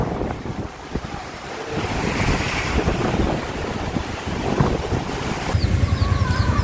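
Ocean waves surge and crash around a wooden outrigger boat at sea, a loud continuous wash of surf and water under heavy wind buffeting the microphone, with no voices.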